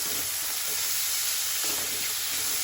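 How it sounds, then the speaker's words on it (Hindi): Onion fries in hot oil in a pan with ginger and garlic for a spinach and pea curry, a steady, close hiss of sizzling that fills the whole moment without pause. "अच्छे से मिला लेंगे और प्याज को भी हम अच्छे से भून लेंगे।"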